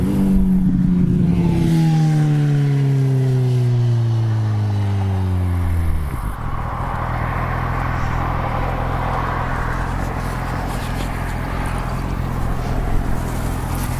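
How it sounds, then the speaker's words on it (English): A motorcycle passes on a rural road near an outdoor landscape painting spot, its engine note loud and close, then dropping in pitch as it goes by and fading into a steady distant rumble. "Here comes another motorcycle."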